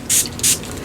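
Two short, loud hissing bursts from a spray bottle misting ink onto a paper craft surface, each lasting about a tenth of a second and separated by a brief pause.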